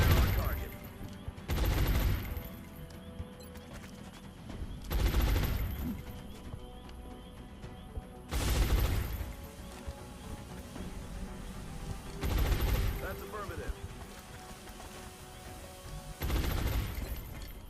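Sustained suppressing gunfire from XCOM: Long War, arriving as repeated loud bursts of automatic fire every few seconds over a steady game soundscape, with a voice talking in between.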